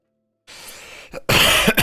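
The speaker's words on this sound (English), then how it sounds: "So I'm coughing today." A single person clears their throat and coughs, a soft rasp followed by a louder, harsher cough nearby, after a moment of silence.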